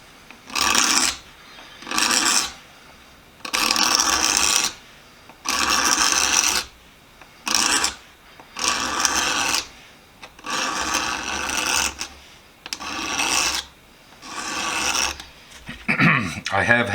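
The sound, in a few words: razor blade scraping an old hammer handle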